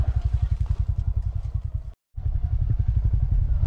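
A motorcycle engine near a river putters in a steady low pulsing rhythm, loud and close, cutting out briefly for a moment before chugging on again.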